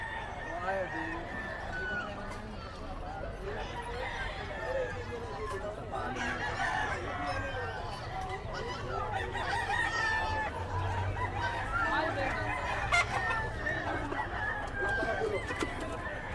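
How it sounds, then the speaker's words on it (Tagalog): Roosters crow and chickens cluck from caged birds at an outdoor pet market in Bocaue, several overlapping calls near and far throughout, beneath ongoing conversation. "Tingin tayo ng manok dito. Ito naman yung maraming manok."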